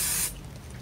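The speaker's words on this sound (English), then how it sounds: "I'm going to use this wonderful 505 spray adhesive." A can of 505 spray adhesive releasing a short sharp hiss of spray onto embroidery fabric, lasting about a quarter second before cutting off.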